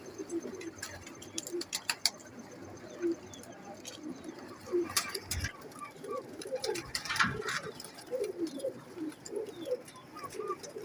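Red-eyed pigeons cooing in a loft, repeated soft low coos with faint chirps from other birds around, steady through the clip at moderate distance.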